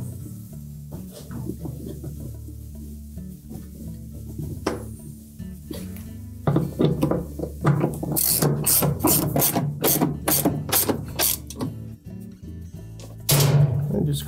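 Ratchet tightening transmission bolts on a Whirlpool washer, with slower clicks at first, then dense loud ratcheting strokes up close and a final burst, with occasional faint talk.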